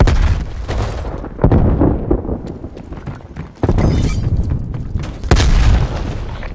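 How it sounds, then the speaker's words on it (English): A frag grenade detonates in Call of Duty: Black Ops Cold War multiplayer, with a loud, close, booming blast that rumbles heavily. Further deep thuds and ongoing gunfire-like impacts follow across the clip. "Throwing frag grenade."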